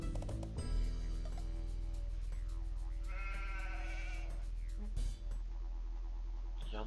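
Sheep bleat in Age of Empires II, a couple of clear, wavering calls standing out over steady game music and ambient background hum, with no talking.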